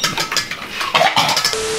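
Rapid, rhythmic clinking of a whisk against a bowl, mixing cocoa powder and sugar for a chocolate pudding, up close and continuous with a few louder metallic scrapes.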